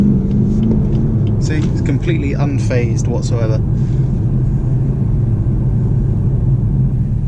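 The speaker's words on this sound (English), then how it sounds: "I can give you a demonstration of how quickly this car gets out of junctions" A 2017 BMW 420d xDrive diesel pulls out of a junction with a steady, low engine rumble inside the cabin. Someone talks briefly over the drone.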